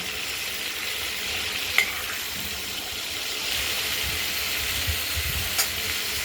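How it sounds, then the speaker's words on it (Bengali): Bay leaf, dried chili and nigella seeds sizzle as they are tempered in hot oil while a Bengali prawn and potato curry is cooked. A steady close hiss runs throughout, with a few sharp clinks of stirring. "এবার তেজপাতা, শুকনো লঙ্কা, কালো জিরে ফোড়ন দিয়ে"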